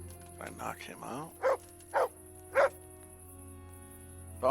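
A dog in the video game Kingdom Come: Deliverance barks in short, sharp yips spaced about a half-second apart, after someone speaks briefly over a steady background hum.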